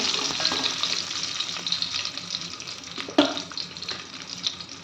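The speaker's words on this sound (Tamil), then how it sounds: "ஒரு பிடி முந்திரி ஒரு பிடிக்கு திராட்சை எடுத்துருக்கேன் அதையும் போட்டுருவோம் போட்டு கொஞ்சம் ஃப்ரை பண்ணிக்கோங்க" Cashews and raisins fry in hot oil in a pan, giving a steady, close sizzle with faint stirring scrapes and one sharp clink partway through.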